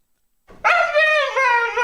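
A husky at a pet groomer lets out a long, drawn-out whining howl that starts suddenly and holds steadily at close range, loud and alone.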